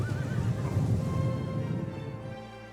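Horses whinny and neigh amid a Crusader Kings 3 battle in India, with hoofbeats clip-clopping beneath a dense, steady din of massed cavalry that fades slightly toward the end.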